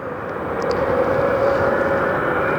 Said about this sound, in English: I always call it the Boeing Regional, but so what, dude? It's a really cool jet.